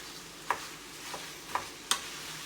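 Browning ground meat mixture for baked spaghetti gets stirred in a pan, with a soft sizzle broken by a few sharp scraping clicks of the utensil against the pan.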